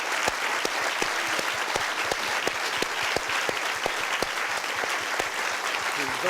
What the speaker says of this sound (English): please join me in a round of applause for the wonderful Stephen Fry